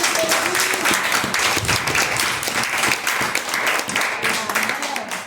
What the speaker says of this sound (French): On nous applaudit le Seigneur pour ça.